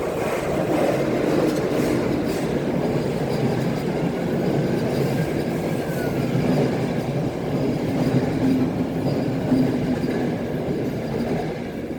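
Train rolling past with a continuous low rumble and faint rhythmic wheel clatter, steady and fairly loud throughout, with no voices over it.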